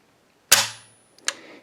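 Two sharp mechanical clicks from a dry-fire trigger pull on a Zastava M76 rifle with a milled receiver, a crisp loud snap followed by a smaller click about three-quarters of a second later, close and isolated.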